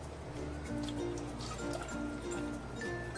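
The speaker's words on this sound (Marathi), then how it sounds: "आपण येळवणी काढून ठेवलंय ते घालून घेऊया." Thick lentil cooking water (yelavani) poured into a pot for Maharashtrian katachi amti, a soft steady trickle and slosh of liquid, close and quiet, with no voices.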